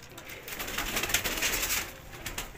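Old pigeons at Ustad Abid Jutt's loft coo in low, throaty bursts that swell and fade, several birds overlapping amid soft flutter.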